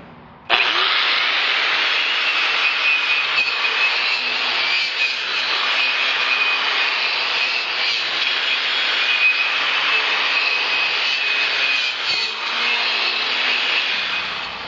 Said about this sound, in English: So just take your grinder and go to work.